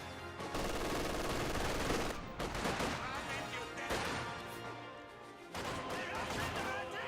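Infantry small-arms gunfire in a Company of Heroes 2 battle with grenadiers, combat engineers and conscripts: steady crackling volleys of rifle and machine-gun fire with short pauses, and a commentator talking over the action.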